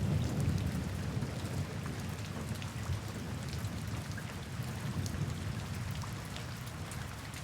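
Steady rain falls while thunder rumbles low and continuous beneath it, soft and even throughout.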